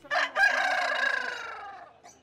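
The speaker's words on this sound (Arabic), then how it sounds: "مرتادو سوق الطيور الحصول على الديك والدجاج البلدي" A rooster at a bird market crows loudly and close, one long drawn-out call that starts with a sharp break and trails away. No chickens or other sounds are audible around it.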